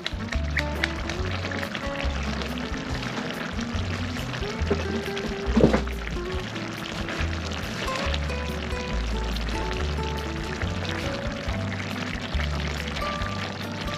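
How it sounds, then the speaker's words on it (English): Fish sauce is poured into a pan over simmering fish, a steady liquid sizzle and bubbling that runs continuously at moderate level with a brief clink partway through. "A little bit more of fish sauce."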